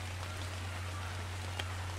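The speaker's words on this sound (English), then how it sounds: "it is raining" Rain falling outdoors, a faint steady patter with a constant low hum beneath it and one brief louder drop near the end.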